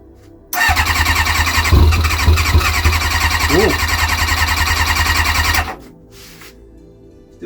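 A long-idle Kawasaki ZX-6R motorcycle engine cranks over on the starter, a steady loud churning that runs for about five seconds and then cuts off. No rider speech is heard over it.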